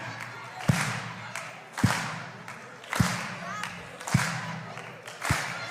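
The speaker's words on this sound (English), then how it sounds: "Everybody clap your hands." A youth-event audience clapping hands together in slow unison, five sharp, evenly spaced claps about a second apart, with crowd murmur and a voice carrying on between beats.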